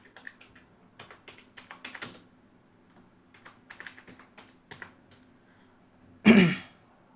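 Rapid clicking keystrokes on a computer keyboard during motion graphics work, irregular bursts of taps fairly close and clear, ending with a louder thump or throat sound.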